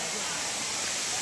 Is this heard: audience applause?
no